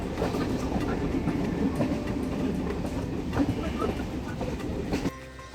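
A passenger train runs along the rails near Bangaon, a continuous close rumble with rhythmic clickety-clack of the wheels, dropping away abruptly just before the end.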